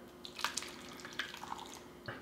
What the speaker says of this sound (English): take our pork, put it in a bowl. All right, and pour our marinade over it.